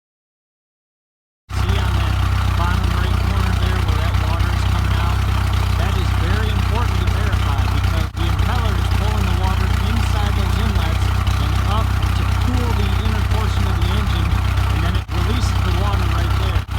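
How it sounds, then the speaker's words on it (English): A Mercruiser 3.0L four-stroke inboard/outboard boat engine, fed water from a garden hose, starts after a brief silence and then idles with a loud, steady, close drone for the rest of the clip. "I'll hop inside the boat, turn the engine on, and I will lower this lower unit and let the engine run for about 10 to 15 minutes"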